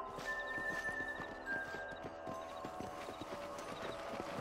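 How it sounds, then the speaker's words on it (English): Horse hooves clip-clop at a steady walk in the video game Red Dead Redemption, a regular rhythm of light hoof strikes with a faint whinny-like tone and ambient game music underneath. "Gotta grab my horse. He's walking."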